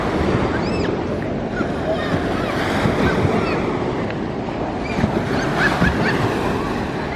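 Ocean surf washing steadily onto a beach, a continuous broadband roar with gusty wind buffeting the microphone and no clear breaks between waves.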